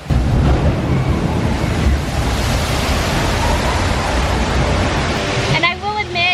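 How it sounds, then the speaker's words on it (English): Loud, continuous rushing water and splashing dominate as a theme-park water-ride boat plunges into a pool at Universal's Islands of Adventure, with faint voices near the end. "right over here, in a moment, we'll see the splashdown."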